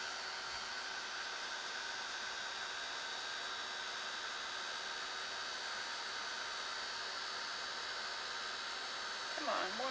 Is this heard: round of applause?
no